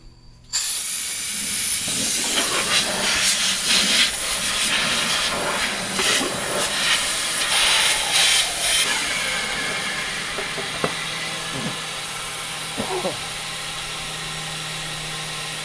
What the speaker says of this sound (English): Made a homemade blowgun that you can turn off and on.